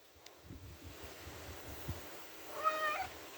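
A cat meows a few times near the end, faint and fairly close, over quiet room noise and low rustling.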